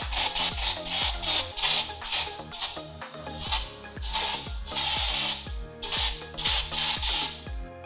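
A handheld mosquito spray hisses repeatedly near a Xiaomi Mi Air Purifier 2H, loud rhythmic bursts of spray about every half second, with the purifier's hum rising underneath.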